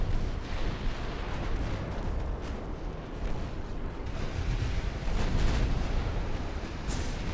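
A heavy cruiser firing a gun salvo in the naval game Ultimate Admiral: Dreadnoughts, dense rumbling booms rolling on continuously with a slightly stronger surge late on.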